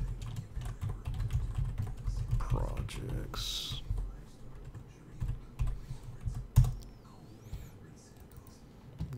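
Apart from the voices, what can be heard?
typing on a computer keyboard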